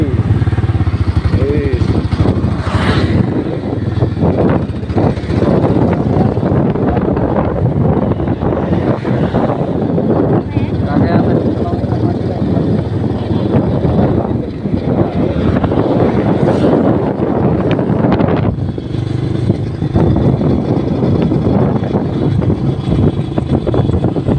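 A Honda Phantom motorcycle engine runs steadily and loud throughout, with a continuous rumble and wind buffeting, while people talk over it.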